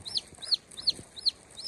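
Chickens clucking in a rural Thai village, a quick rhythmic series of short, bright clucks repeating about every third of a second, close and fairly quiet.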